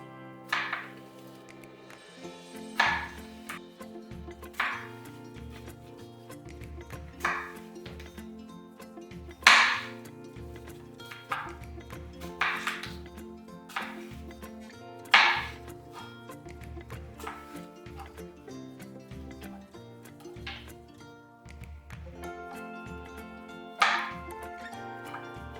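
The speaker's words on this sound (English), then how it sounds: "First thing we're going to do is cut the apple in half." A knife cuts an apple in half and into slices in an orchard kitchen, making a series of sharp, crisp chops spaced a couple of seconds apart over soft background music.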